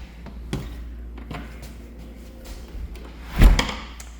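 A house's front door on Short Street in Chapel Hill, North Carolina is opened, giving a few light knocks and clicks followed by one louder, close thump near the end, with no talking.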